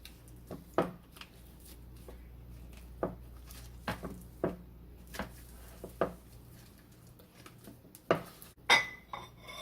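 Utensils scrape and clink against a baking dish as a chocolate French toast bake is cut and served. The taps are quiet, scattered and irregular, ending in a brighter clatter.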